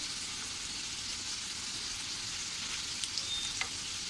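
Semolina-coated potato slices fry in a pan, giving a steady, even sizzle throughout with a couple of faint clinks near the end.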